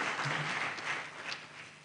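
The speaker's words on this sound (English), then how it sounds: "I'd like us all to give them a round of applause." Audience applause at a public forum fills the moment: dense, steady clapping from a crowd, loud and continuous, tapering slightly toward the end.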